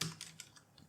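A few quick, faint keystrokes on a computer keyboard while a URL is typed, close and brief.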